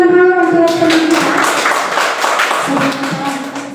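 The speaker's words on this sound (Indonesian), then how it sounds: "Kita tepuk tangan dulu untuk teman kita" A class of students claps for a classmate, a burst of scattered, overlapping hand claps nearby, with a voice heard briefly before and after the clapping.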